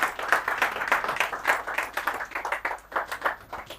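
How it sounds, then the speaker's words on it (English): An audience at a poetry evening in a Lagos venue claps steadily in a dense, continuous round of applause heard up close, with no speech over it. "So give a round of applause"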